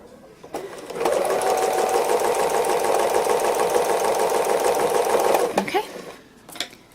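A sewing machine free-motion embroiders an owl outline, running steadily and close for about five seconds with a fast, even mechanical whir, then stopping; brief handling sounds follow.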